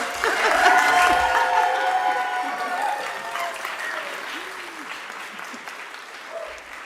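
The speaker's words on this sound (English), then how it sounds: "I'm not used to getting applause when I talk, so that was very nice." Audience applause at a funding review advisory committee meeting, a sustained burst of clapping that swells early and gradually thins out, with a few voices and light chuckles mixed in.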